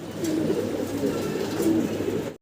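Fancy and racer pigeons, red checker and black checker among them, coo steadily in a low throaty rolling drone that carries on nearly unbroken up close, with no talk over it.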